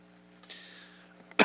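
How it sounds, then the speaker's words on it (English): A single sharp cough close to the microphone, loud and abrupt after a stretch of quiet hum. "Coughing right in the mic."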